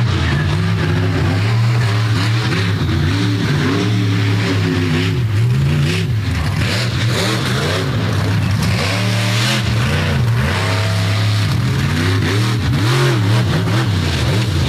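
An off-road truck engine revs hard at a mud pit, loud and close, its pitch rising and falling in repeated surges over a steady throaty drone.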